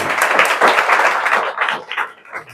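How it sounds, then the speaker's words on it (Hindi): A crowd in a lecture hall claps steadily for a couple of seconds, dense and fairly loud at first, then thinning and fading toward the end. "तालियां यही बजनी चाहिए।"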